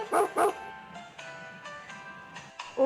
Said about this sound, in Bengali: কুকুরকে ইংরেজিতে বলে ডগ।